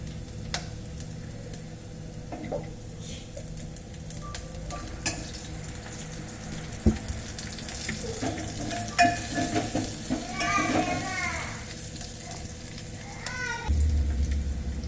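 Finely chopped onion frying in oil for Marathi masala dal, a continuous close sizzle with scattered spoon scrapes and clinks as it is stirred, ending in a low thump.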